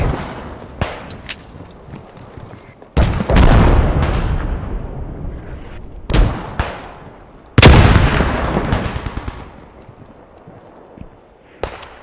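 Mortar rounds and gunfire in a World War II shooter game set in marshlands: several heavy explosions boom at intervals with decaying rumble, interspersed with sharp single rifle shots, loud and close.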